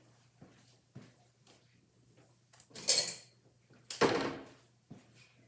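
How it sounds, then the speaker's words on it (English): Dishes clatter in a home kitchen as a bowl is fetched: a few light clinks and taps, then two louder bursts of ceramic and cutlery rattling, close by with quiet gaps between. "I'm actually going to get another bowl."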